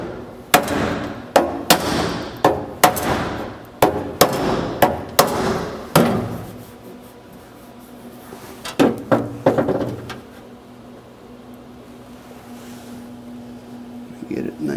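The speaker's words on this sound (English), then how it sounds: "I've been hammering it flat because they are all messed up" Sharp metallic hammer strikes flattening a car's interior metal panel during rust repair come in quick bursts, several blows in a row, then a pause before a few more taps against a steady background hum.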